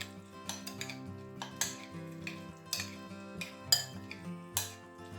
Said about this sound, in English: so we'll just give that a good mix up